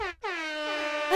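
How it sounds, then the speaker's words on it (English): DJ air horn sound effect: one long, loud blaring blast after a brief stutter, with a rough burst at the end, heard alone without talk. "it's very comical when a DJ just spams the air horns like"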